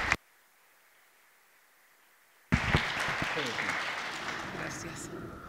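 Audience applause welcoming a speaker at a history lecture course breaks out after a near-silent pause, a sudden burst of clapping from a modest crowd that stays steady and slowly thins.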